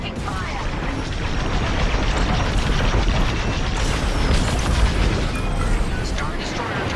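Incoming weapons fire pounds a starfighter in Star Wars: Squadrons, with a dense, steady roar of blasts and rumbling impacts that hold loud and continuous throughout.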